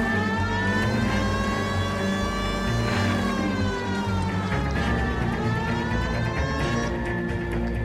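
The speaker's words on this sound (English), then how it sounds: "This would be a good time for the siren." A wailing police siren in the video game L.A. Noire rises and falls continuously over a steady engine hum, loud and close throughout, with no talking.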